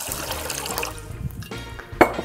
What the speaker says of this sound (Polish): Do miski z ryżem wlewam trochę wody.